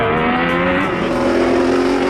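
A Honda Civic race car engine revving hard under load as the driver changes gear, a loud, steady, buzzing engine drone that stays close and strong throughout the short moment.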